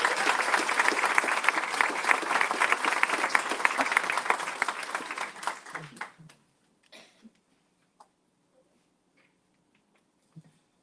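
Audience applause fills a school board meeting, a steady broadband clapping that holds for about six seconds, then thins out into a few scattered claps and fades to near silence.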